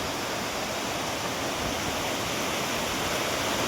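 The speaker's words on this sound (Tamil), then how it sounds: "மெயின் அருவி" Main Falls at Courtallam roars as a steady, dense broadband rush of falling water, loud and continuous with no voices above it.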